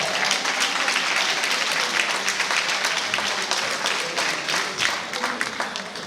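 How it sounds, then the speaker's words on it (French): Loud, dense audience applause at the Miss Ronde Martinique 2014 pageant, a sustained crowd clapping that continues unbroken and close throughout with no speech on top. "Je vous demande d'applaudir très très fort Laura."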